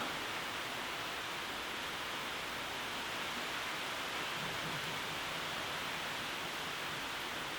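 Heavy rain pouring down outdoors makes a dense, loud, unbroken roar of hiss that stays constant from start to finish, with no voices.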